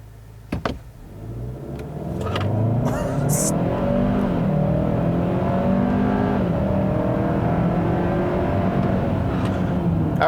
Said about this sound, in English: We'll just floor it from a stop here.